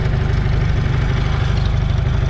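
A Farmall M tractor engine runs nearby at a steady idle, giving a loud, low, evenly pulsing chug with no talk over it.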